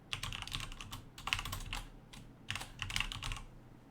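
Fingers type on a computer keyboard in quick bursts of clustered clicks separated by short pauses, close and moderately loud, with no one speaking.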